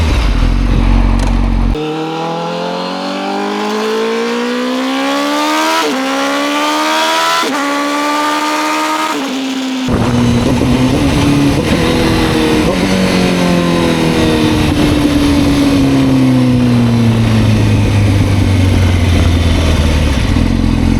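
A Honda CBR1000RR-R Fireblade inline-four motorcycle screams up through the revs toward redline, then drops through a series of downshifts with throttle blips, loud and close with wind rush.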